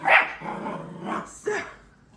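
Several Schnauzer puppies bark and yip inside a portable pen set up in a basement, with a sharp yelp at the start and more barks around the middle and end, close and fairly loud, mixed with some background voice.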